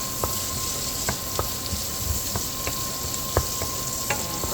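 Onions sauté for Filipino binagoongan, a steady close sizzle in the pan punctuated by regular light clicks of a spatula stirring, with no one speaking.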